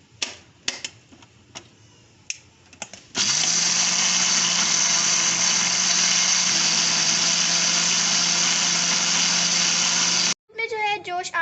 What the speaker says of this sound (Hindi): इसको दरदरा सा ग्राइंड करना है कि चावल थोड़े मोटे मोटे रहें